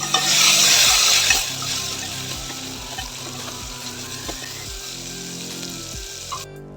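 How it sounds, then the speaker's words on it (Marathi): Loud sizzling as tomatoes hit a hot pan, bursting up at the start, then settling into steady frying with soft scraping and stirring knocks. "आणि टोमॅटो घालून घेऊया. आणि याला छान परतून घेऊया."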